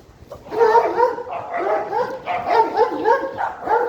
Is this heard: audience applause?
no